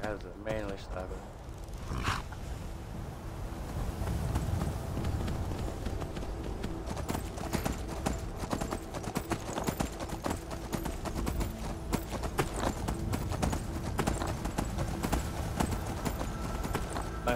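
Rhythmic horse hoofbeats clatter steadily throughout in the video game Skyrim, with a person talking over them and game sounds in the background.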